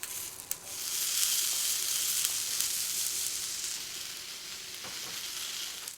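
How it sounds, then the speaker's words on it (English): Steady crackling sizzle of tomato halves frying in hot oil in a frying pan, loud and continuous, with a few sharp pops and a faint clink near the start. "Heat a frying pan with some oil to a moderate heat and add the tomato halves one by one."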